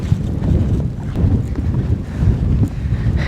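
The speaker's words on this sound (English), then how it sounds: "The winds are blowing 45, 50 miles an hour." Strong nor'easter wind gusts roar across an exposed mountainside at 6,000 feet, a loud, continuous low buffeting rush with wind noise hitting the microphone, rising and easing in waves throughout.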